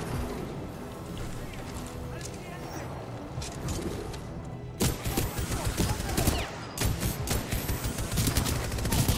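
Gunfire in the video game Titanfall 2: rapid bursts of shots crackle loudly in the second half after a duller first stretch, mixed with combat noise and a voice talking over it.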